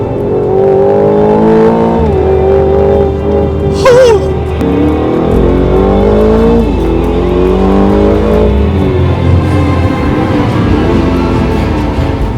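The 2025 Aston Martin Vantage, a 656-horsepower sports car, snarls as it accelerates hard on a track, with loud engine revs rising and falling through downshifts and gear changes, close and sustained throughout.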